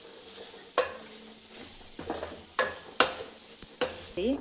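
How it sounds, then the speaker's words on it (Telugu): Dal and rice fry in a pan for sweet pongal with a low, steady sizzle, broken by a few sharp scrapes and knocks of a spoon against the metal, heard close up without talk. "కొంచెం మనకి ఆ పప్పు రైస్ ఇంకా పచ్చాసన పోయే వరకు మనం వీటిని ఫ్రై చేసుకోవాలి"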